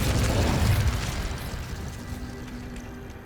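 Incendio fire spell cast in Hogwarts Legacy, a loud low burst that rolls out and fades over a few seconds, with no talk.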